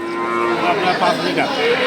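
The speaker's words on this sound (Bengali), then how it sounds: "অনেক সুন্দর একটা মুন্ডি গরু সাথে বকনা বাসুর" A native cow at a cattle market moos in a long, low drawn-out call that rises and wavers, close by, with faint farmyard background.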